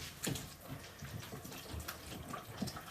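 Water runs from a kitchen sink tap in bursts and splashes, fairly close, with clattering movement around the basin.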